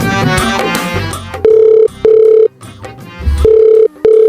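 A telephone ringback tone sounds on an outgoing call, loud and close, in two long repeated beeps with short gaps, preceded by a moment of background noise.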